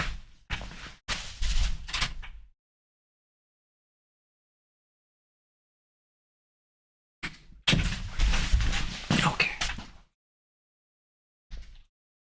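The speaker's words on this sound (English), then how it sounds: "Sorry, I have to let the cat out the door." A door being opened to let a cat outside, heard as two spells of loud, close clattering and knocking separated by a long silence, then one brief knock near the end.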